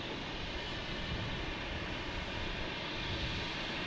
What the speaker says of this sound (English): This is JetBlue coming in from Seattle, an A321.